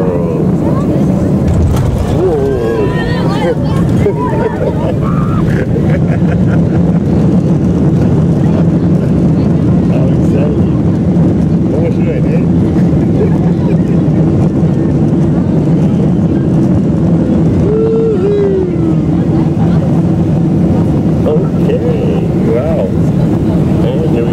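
Inside a Qantas jet just after touchdown on the runway, a loud, steady cabin rumble and roar of engines and rolling wheels continues throughout, with a voice talking over it.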